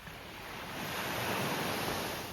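Sea waves washing onto the shore, a continuous soft roar of surf that swells gradually, with light wind noise on the microphone and no voices.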